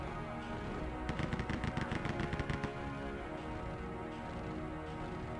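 Bursts of rapid automatic gunfire from enemies in the Rise of the Triad shooter game, a quick rattling volley lasting a couple of seconds over a constant droning game background.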